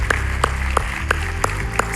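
Church congregation clapping together in a steady, evenly spaced rhythm, a moderately loud group applause beat over a low background hum.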